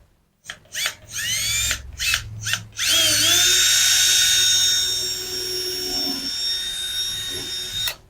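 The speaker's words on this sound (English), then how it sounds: "I'm going to drill a hole in this." A power drill starts with a few short revving bursts, then runs long and loud into wood at an angle, its whine dipping slightly as it bores in.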